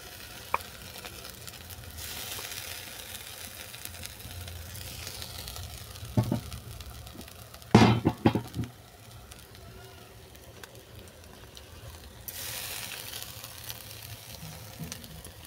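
Grated ash gourd paste hits hot oil in a pan, already holding scrambled egg and fried nigella seeds, and gives a soft steady hiss that swells at the start and again near the end, with a few brief utensil scrapes in between.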